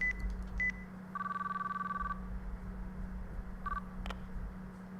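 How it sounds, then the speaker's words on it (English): A phone in the video game Chaos;Child has a number dialed on it, giving a few short electronic beeps followed by a longer ringback tone and more brief tones, over a low steady hum. "I took the phone from Ito and dialed the number."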